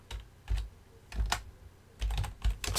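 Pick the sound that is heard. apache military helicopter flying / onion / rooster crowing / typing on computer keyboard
typing on computer keyboard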